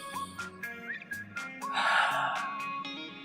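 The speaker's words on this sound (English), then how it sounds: "I want you to take a deep breath" Deep breath drawn in through the nose and let out, a close, audible inhale and exhale in a quiet room, demonstrated as a breathing exercise for young children.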